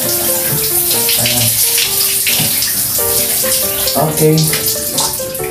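Water runs steadily from a tap while a pet is bathed, a continuous splashing wash with tonal notes over it and a brief spoken word.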